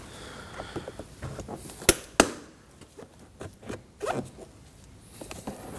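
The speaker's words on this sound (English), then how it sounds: "using my trim tool, we're going to work up this piece of trim here for the window switches" A plastic trim tool pries the window switch trim on a Ford Edge door panel: soft scraping and fiddling, broken by two sharp plastic snaps close together and a later, rougher crackle, close and otherwise quiet.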